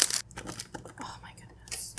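Graham crackers are broken and crushed into crumbs for a homemade cheesecake crust, giving short, close crinkling and crunching bursts at the start and end, with a voice talking in between.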